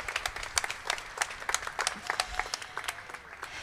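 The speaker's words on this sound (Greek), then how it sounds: "Ένα μεγάλο χειροκρότημα πραγματικά για τα ωραία λόγια της Άρτεμις." An audience at a Hellenic Red Cross ceremony gives a big round of applause after a speech, a steady patter of many hands clapping throughout, moderately close and even in loudness, with no talk over it.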